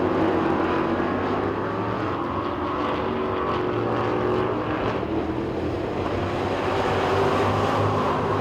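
Street stock race cars roar around the Talladega Short Track oval in a heat race, a continuous layered engine drone rising and falling as cars pass at a distance.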